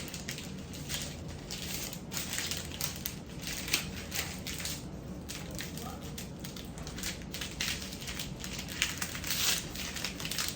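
Paper folded and creased to make a cartouche, a continuous close crinkling and rustling with small crackles throughout, steady and fairly loud.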